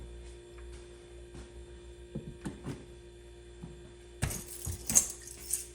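A large bunch of keys on a ring jangling near a gun vault, several light metallic clinks and rattles that grow busier and louder toward the end, with no talking.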